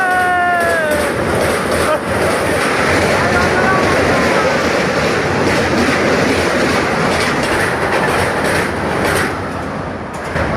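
The Rajdhani Express passing close by, with a loud continuous rumble and rhythmic clatter of carriages over rails for the whole stretch, preceded by a brief horn; people talk over it.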